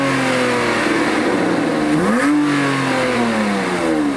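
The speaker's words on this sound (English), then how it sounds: "Let's give it a little rev, see what it sounds like." A warmed-up cheap used Porsche engine revs close by, holding a loud steady drone, then climbing sharply in pitch and easing back down into a sustained, mechanical-sounding rumble.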